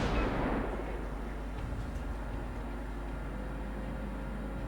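Destroyer guns fire in a naval warship video game, the Tier VI US destroyer Farragut, with a strong blast at the start decaying into a dense, steady rumble of battle noise.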